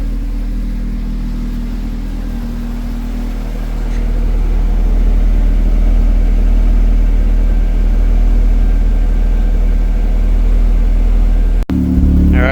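A Nissan R34 Skyline with a Beams turbo engine idles nearby, a loud steady low rumble that rises slightly partway through and holds evenly before a brief click near the end.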